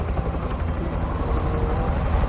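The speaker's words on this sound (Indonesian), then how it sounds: "Ini pakai helikopter." Continuous loud rotor and engine roar of a helicopter in Call of Duty Warzone Mobile, dense and close throughout, with no talk.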